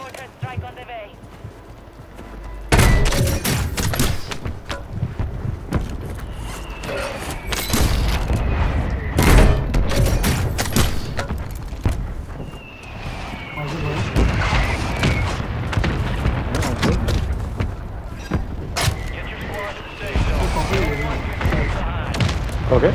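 Mortar strike explosions in a video game, a series of heavy booming impacts and rumbling blasts rolling on for about twenty seconds, with gunfire and game effects mixed in and people talking over them.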